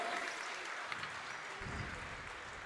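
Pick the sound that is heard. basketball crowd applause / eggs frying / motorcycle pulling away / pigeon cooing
basketball crowd applause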